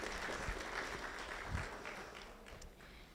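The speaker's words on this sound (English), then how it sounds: "Another round of applause for Councilwoman Dr. Adriana Rocha Garcia." Audience applause for a city councilwoman at a San Antonio event, a fairly faint, distant round of clapping that holds steady for a few seconds and then tapers slightly.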